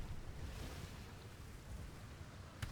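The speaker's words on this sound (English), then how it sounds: "Rough water out here." Rough open water slaps and surges around a schooner, a steady broadband wash mixed with wind buffeting the microphone, with one sharper splash near the end.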